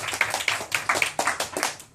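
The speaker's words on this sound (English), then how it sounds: "round of applause for everyone who's performed tonight" A small audience at a Halloween poetry night claps for the performers, a short burst of brisk, close hand claps that thins out and fades within two seconds.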